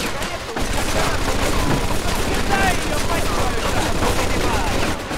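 Enemy machine gun in Mafia 2 rattles in loud, rapid sustained bursts nearly the whole time, dense and close, with voices shouting beneath the gunfire.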